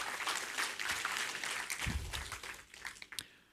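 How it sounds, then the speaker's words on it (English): An audience at a university health research carnival applauds the committee members with a dense, continuous round of applause that thins out toward the end, with no clear talking. "Let's show our appreciation with a round of applause for our dedicated committee members"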